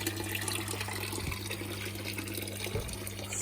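Water draining steadily from a fish aquarium with its filters switched off, a continuous low rushing and gurgling flow at moderate level, with a couple of soft thumps and no voices.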